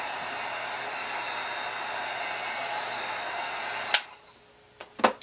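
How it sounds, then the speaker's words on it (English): A heat tool blows over a freshly painted art journal page with a steady, close whooshing roar for about four seconds, then cuts off, followed by a few sharp clicks. "So I can just hit it with my heat tool and dry it off a little bit."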